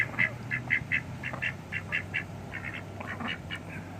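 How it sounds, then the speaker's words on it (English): Several male ducks make low, rough grumbling calls rather than proper quacks, a steady run of short repeated bursts close by over a faint background hum. "it's more of a grumble and less of a quack"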